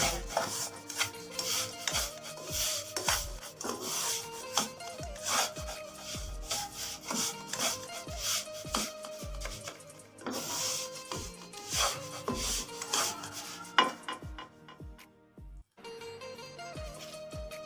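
A spoon stirs semolina roasting in a pan for paneer halwa, scraping and rasping against the metal in steady back-and-forth strokes, close and fairly quiet, with soft clinks between strokes.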